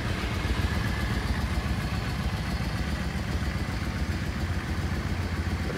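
A Yamaha XVS650 Dragstar motorcycle, showing about 12,658 miles, idles steadily just after starting, a close, even engine rumble with light clatter and no talking.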